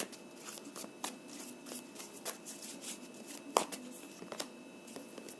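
Tarot cards are shuffled and drawn by hand in a quiet room, giving soft, irregular riffles and snaps with one sharper slap, close and alone.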